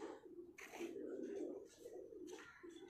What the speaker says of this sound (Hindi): ये जी असल डब वाला कबूतर है